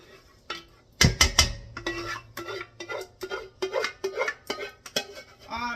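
Alfredo sauce dumped and scraped into a big pan, a sharp clatter of utensil against metal followed by a run of rhythmic scraping and stirring strokes, close and fairly quiet.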